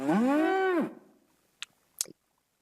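Cartoonish cow moo in the video game Reigns: Her Majesty, one loud drawn-out call under a second long, followed by two short sharp clicks from the game.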